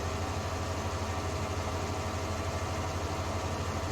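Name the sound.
Case row crop wheeled tractor engine running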